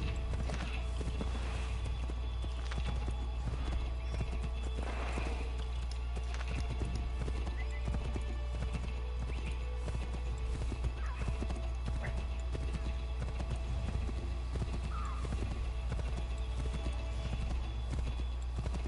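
Hoofbeats of a walking horse in a PS4 video game, steady clip-clop throughout with several clear whinnies, close and moderately loud over a constant low hum, faint voices underneath.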